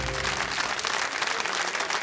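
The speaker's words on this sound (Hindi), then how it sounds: "वो लोग भी ताली बजा रहे हैं" A studio audience at the KBC quiz show claps in a steady, dense burst of applause that fills the room, with no voices over it.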